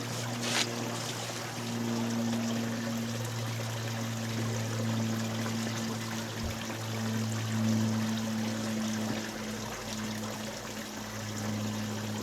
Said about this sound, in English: Let's give that one more water in.